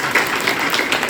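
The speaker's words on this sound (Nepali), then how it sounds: "यस्तो परमेश्वरलाई हामी ताली बजाएर हामी धन्यवाद भन्नेछौँ" A church congregation claps together in a brief, dense burst of applause, with no speech over it.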